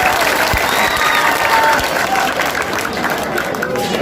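Crowd applause at a packed outdoor election rally in India, a loud, dense, sustained wash of clapping with crowd noise that carries steadily through the whole stretch.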